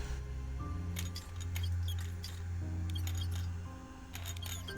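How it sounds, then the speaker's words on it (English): A pentagon screwdriver worked against a metal grating in a video game produces a scatter of quiet metallic clicks and clinks in short bursts over a low steady hum, with no voices. "Use the pentagon screwdriver with the grating."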